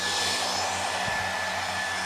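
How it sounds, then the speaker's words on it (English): A hair dryer blows with a loud, steady whooshing hiss and a thin high whine, running without a break, with one brief low knock partway through. "What I need to do is hit it with my hair dryer."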